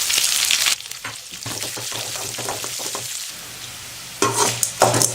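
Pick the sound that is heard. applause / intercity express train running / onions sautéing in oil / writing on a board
onions sautéing in oil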